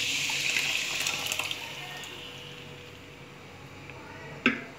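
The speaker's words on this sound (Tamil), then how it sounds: "இப்போ நம்ம கடைஞ்சி வச்ச இந்த பருப்பு தண்ணியை நம்ம இதில் ஊற்றிடலாம்." Lentil water poured into a pot of radish sambar, a steady liquid stream splashing that gradually weakens, ending with a brief clink near the close.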